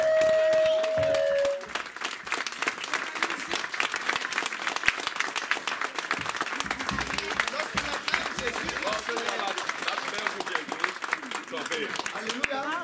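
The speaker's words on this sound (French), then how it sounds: "Alors on a acclamé, on a applaudi Jésus." A church congregation applauds during a sermon, sustained dense clapping that swells after a brief sung or spoken opening and continues loudly and evenly for several seconds, with voices mixed in underneath.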